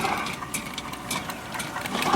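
A sewer drain cleaning machine runs its cable through a main line, giving a steady, close mechanical whirring and rattling drone with slight rhythmic fluctuation throughout.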